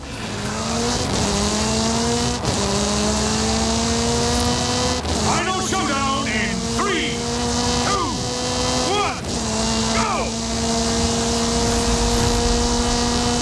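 Rally car engine driving along a highway in the racing game Forza Horizon 5, a steady continuous drone with pitch rising through gear changes, loud and close, with someone talking over it.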